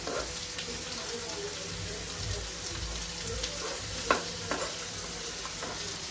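Onions frying in a pan for white sauce pasta give a soft, steady sizzle, with a few sharp clicks of stirring near the end.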